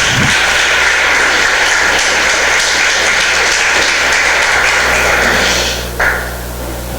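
Loud, dense clapping from a church congregation fills the room nonstop with a steady low hum beneath, then drops away abruptly near the end.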